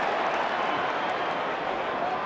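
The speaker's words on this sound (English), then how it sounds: "More applause." Crowd applauding and cheering at an Australian football match between West Coast and St Kilda, a dense steady roar of clapping filling the stadium throughout.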